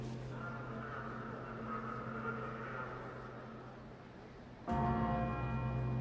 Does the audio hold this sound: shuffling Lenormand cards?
no